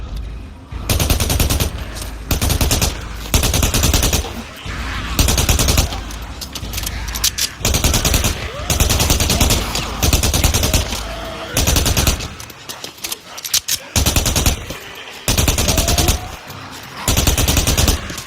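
Rapid bursts of video game gunfire as zombies are shot, loud and repeated in stretches of automatic fire with short gaps, no talking.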